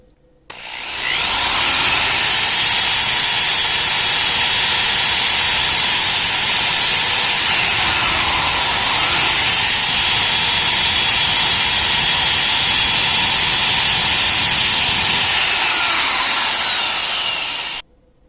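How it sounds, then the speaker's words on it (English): A metallic high-speed rotary cutter grinds through plastic for a custom figure with ball joints, a loud continuous high-pitched whirring hiss held steadily for about fifteen seconds, starting and stopping abruptly, with no talking. "I'm going to have to use this metallic high-speed cutter to get the rectangular shapes that I want"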